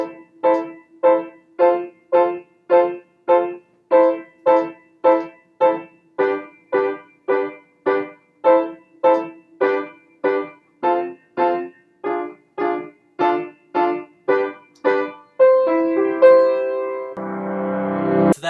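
A piano plays the outro of a song, repeating short, evenly spaced staccato chords in a steady pulse, then ending on a sustained, ringing chord with a low note.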